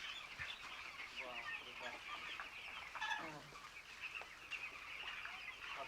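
Village chickens cluck and chatter steadily at close range for several seconds as they peck at grain in a rural yard, with voices in the background.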